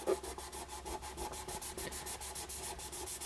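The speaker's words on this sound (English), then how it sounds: "So I'm going to start with my 1500 grit sandpaper." Wood finish being hand-sanded with fine 1500 grit sandpaper: a steady, rhythmic back-and-forth rubbing, about six strokes per second, close and soft, with no voices.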